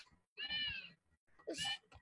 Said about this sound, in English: after this cat touches the mouse, it will say meow.